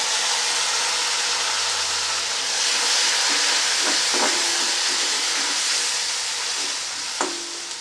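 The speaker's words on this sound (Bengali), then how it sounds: "এর মধ্যে আমি সামান্য জল দিয়ে দিচ্ছি যাতে পুড়ে না যায় মশলাটা" Water splashes into a pan of sizzling spice masala for egg curry, setting off a loud, steady steam hiss that holds throughout, with a few brief clinks of a utensil toward the end.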